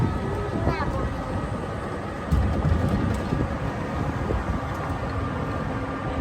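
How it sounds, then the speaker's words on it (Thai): A train rumbles past at steady, fairly loud volume near Luang Prabang, Laos, with a brief louder surge partway through, while people talk over it. "รถไฟ"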